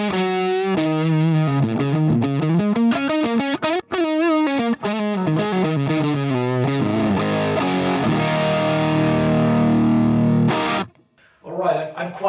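Electric guitar on the bridge pickup through a fuzz distortion plays a loud, sustained lead line with bending, wavering notes and a thick buzzing tone, breaking off briefly near the end before a few more notes.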